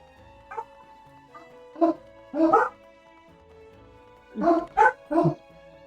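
Dogs in the Final Fantasy XIV video game bark in short bursts, a lone yap followed by clusters of two or three barks, moderately close over a faint steady background.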